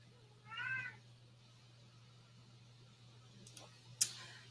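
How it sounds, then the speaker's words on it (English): A house cat meows once, fairly loud and plaintive, wanting to go back outside; a few sharp clicks and taps follow in an otherwise quiet indoor room with a low steady hum. "now my cat's crying constantly to go back out"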